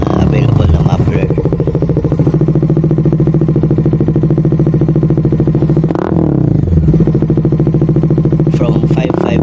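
A motorcycle fitted with an Orion ARA muffler idles loudly and close by with a rapid, even exhaust pulse and a couple of brief revs, while someone talks over it.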